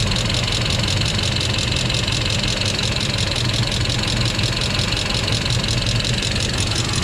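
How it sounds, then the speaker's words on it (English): A Mercedes-Benz W140 idles with a steady, dense mechanical drone and whine from the transmission, heard up close and continuous, with no talking. "It sounds like that noise coming from the transmission."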